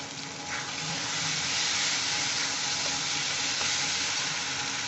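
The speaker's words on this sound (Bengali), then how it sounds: "আদা বাটা দিয়ে একটু নেড়েতে" Ginger paste frying in a hot pan while being stirred, a steady broadband sizzle with faint scraping, continuous and close, with no talking.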